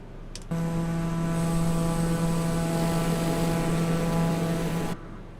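Steady turboprop drone of a TBM 850 single-engine aircraft in cruise in a flight simulator, a constant tonal hum with strong harmonics that starts abruptly and cuts off after about four and a half seconds, with no talking.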